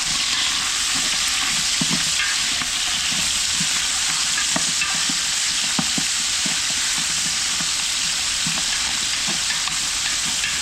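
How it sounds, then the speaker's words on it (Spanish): Bacon (panceta) frying in a pot while making locro, a steady loud sizzle with occasional stirring scrapes and pops throughout. "que se vaya cocinando y largando los sabores de la panceta"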